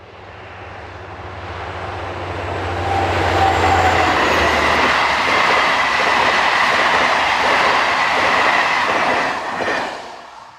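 A locomotive-hauled passenger train led by French locomotive BB67587 roars past nearby, its loud rumble swelling and holding with rhythmic clatter from the wheels before easing off.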